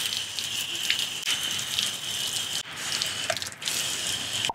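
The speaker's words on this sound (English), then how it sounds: "you can literally use a water bottle and spray this thing with a water bottle." Water sprayed from a handheld water bottle onto a bicycle during cleaning, a steady broadband hiss that runs continuously with two brief breaks, close and fairly loud, with no talking.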